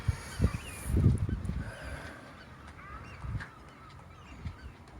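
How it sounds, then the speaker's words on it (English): A busy seabird colony of puffins, guillemots, razorbills and great black-backed gulls on the Welsh coast calls continuously, with loud honking, groaning cries up close over a dense chorus of distant calls, and no one speaking. "We got puffins, guillemots, razorbill, blackback gulls."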